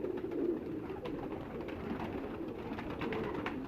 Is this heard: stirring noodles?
no